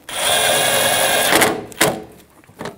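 Power tool driving a small body screw with a 7mm socket while a Jeep Patriot headlight is replaced, a steady whirring burst of about a second followed by a couple of short clicks and knocks.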